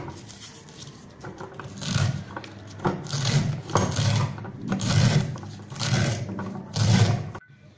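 Steady rhythmic knife chopping of finely cut taro (colocasia) leaves on a board, repeated strokes with a soft rasping texture, close and continuous.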